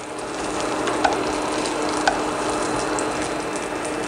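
Pre-cooked bacon heats in its own grease in a pan, a steady, moderate sizzling hiss with a couple of small ticks.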